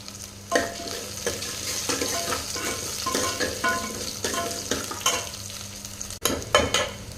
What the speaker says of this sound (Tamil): நல்லா கலந்து விட்டுக்கலாங்க வெங்காயம் வதங்கட்டும்